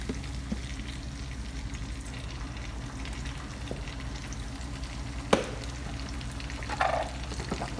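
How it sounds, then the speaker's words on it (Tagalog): Eggplant and tuna sautéing in a pan, a continuous soft frying sizzle with occasional clinks and scrapes of a utensil against the pan. "Tapos gisa-gisahin lang natin guys hanggang maluto."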